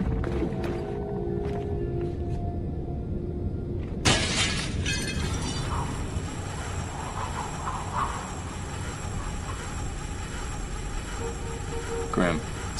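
Glass shatters suddenly with a bright crash as Sam breaks through a window in Splinter Cell: Blacklist, followed by a sustained rumbling hiss and scattered debris, with talk faintly underneath.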